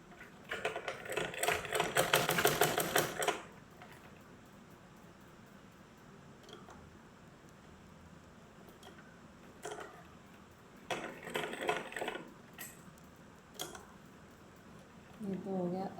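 A small sewing machine stitches a doll's pants in two short rattling bursts, a few seconds each, with soft taps and a quiet voice in the pauses.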